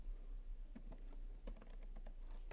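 Quick, soft keystrokes on a computer keyboard as code is typed, a brief irregular patter of clicks, close and fairly quiet, with no talk.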